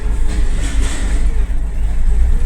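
An old Tata tempo cargo truck runs with a steady, close low engine drone and rumble, continuous throughout with no pauses.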